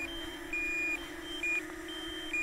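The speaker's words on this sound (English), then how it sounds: "I can't really stop that beeping" Thin electronic low-battery warning beeps from a DJI Mini 2 drone repeat at regular intervals over a steady low motor hum, fairly quiet and mechanical.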